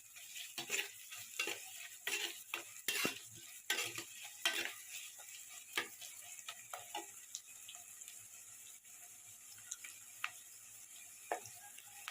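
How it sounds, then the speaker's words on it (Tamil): Potato and moong dal salna sautéing in a pan, a soft continuous sizzle under repeated scraping stirs of a spoon, busiest early and thinning to occasional clicks later, close and fairly quiet, with no voices. "நல்லா வதக்கி நிறைய பதத்துக்கு இன்னும் வரல வாரம் வரைக்கும் நல்லா வதக்கணும்"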